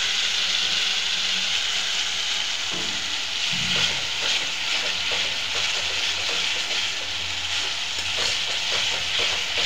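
Spices sizzle and fry steadily in a pan while being stirred into a masala, a continuous close hiss with occasional scraping of the spoon and no voices.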